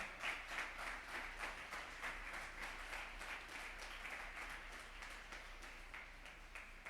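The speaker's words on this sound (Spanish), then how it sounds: "Dale un fuerte aplauso al Señor" A church congregation claps steadily for the Lord during a Spanish-language sermon, a faint, even wash of applause with a slight beat to it, heard from a distance with little else over it.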